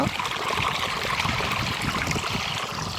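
Water runs steadily from a tap, a continuous trickling stream with a light gurgle, close by and uninterrupted, with no talking.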